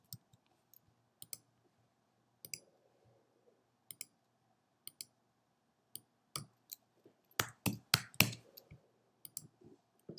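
Quiet, crisp computer mouse clicks come singly and in quick pairs while text is animated in Canva, with a denser flurry of clicking near the end.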